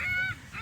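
An angry seagull gives a short, loud, harsh honking call close by, with a second squawk following.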